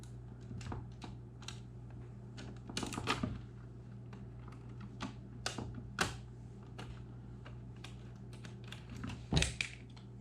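A screwdriver driving screws into a cover plate on a 240V 20A PID controller build, heard as a series of close clicks and ticks with a few louder knocks over a steady low hum.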